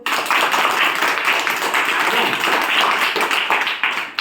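A group of students claps together in a classroom, a dense, steady patter of hands that continues evenly without a break.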